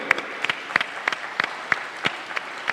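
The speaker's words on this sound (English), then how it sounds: "I want to have a big round of applause for all these people" A short stretch of sparse, crisp hand claps, roughly a dozen fairly evenly spaced strikes, at an international temples expo, sounding like only a few people clapping rather than a full crowd.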